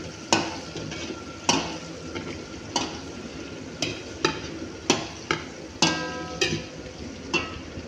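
Liver sautéing in a frying pan for a Filipino dish is stirred with a utensil, giving sharp scraping clacks at an irregular, roughly one-per-second pace over a steady low sizzle, close and fairly loud.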